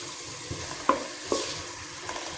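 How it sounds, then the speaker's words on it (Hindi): Green chilli frying with a spoonful of garlic-ginger paste in oil for aloo palak, a low steady sizzle broken by two sharper stirring scrapes of a spoon in the pan. "इन तमाम चीज़ों को मैं अच्छे तरीके से भूनती हूँ।"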